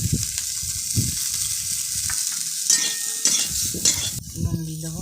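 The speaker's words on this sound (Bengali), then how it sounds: "কপিটা ভেজে নেবো" Cauliflower frying in hot oil in a pan, a continuous loud sizzle broken by scraping stirs of a spatula, with no talking.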